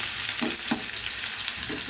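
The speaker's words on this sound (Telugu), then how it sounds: "గార్లిక్ వేసాక ఒక 1 minute అలా లైట్ గోల్డెన్ కలర్లోకి వచ్చే వరకు ఫ్రై చేసుకోండి" Crushed garlic sizzles in hot oil for tomato dal, a steady close frying hiss with a few soft stirring scrapes and no voices.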